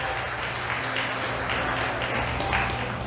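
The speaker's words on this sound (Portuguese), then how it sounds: "Você pode aplaudir o Senhor nessa hora" A church congregation applauding steadily, a dense wash of clapping that holds at a constant level for a few seconds with no voices standing out.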